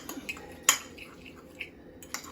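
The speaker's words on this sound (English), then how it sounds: "We're going to mix this up." A spoon stirs a few drops of soy sauce and balsamic vinegar into a small bowl of dip, giving a handful of sparse, close metallic clinks and scrapes against the dish, with one sharper knock, in an otherwise quiet room.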